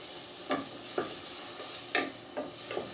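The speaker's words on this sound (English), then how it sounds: "I'm going to add my onion. You can hear the little sear, just a light sear." Onion sears lightly in a hot pan with garlic while a utensil stirs it, a steady soft sizzle broken by several distinct scraping strokes, close and fairly quiet.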